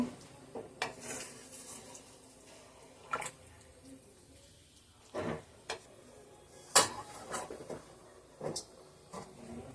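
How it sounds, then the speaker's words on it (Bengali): A spoon stirs milk into bottle gourd stem shukto in a pan, giving scattered scrapes and clinks against the metal with quiet gaps between them, some soft and some sharper, under faint background sound. "এবার সব কিছু আমি ভালো করে নাড়ব"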